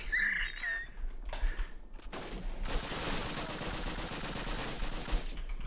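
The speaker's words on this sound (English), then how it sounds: "Who is shooting me?" Gunfire in Call of Duty, a dense, continuous rattle of distant shots that builds after a quieter opening with faint whistling tones.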